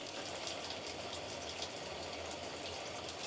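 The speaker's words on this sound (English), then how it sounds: "And then we activate the water. Let it rain." A watering system sprays water like rain over potted orchids, making a steady, dense hiss that stays constant from start to finish.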